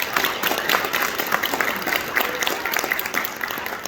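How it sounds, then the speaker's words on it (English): A meeting audience gives guests a lively round of applause, a close, dense patter of many hands that holds steady throughout, with faint voices mixed underneath. "So let's give them a round of applause."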